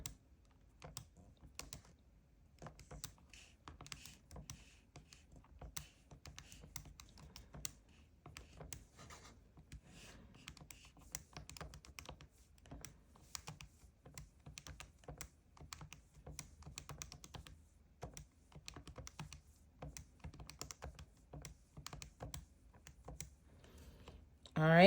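Soft, rapid tapping of calculator keys while entering statistics data, a quiet, steady run of light clicks continuing throughout, fairly close.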